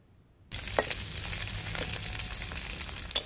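Kaji fish seasoned with turmeric fries crisp in hot oil, a dense steady sizzle that begins abruptly and continues loud and close with scattered pops and spits. No one talks.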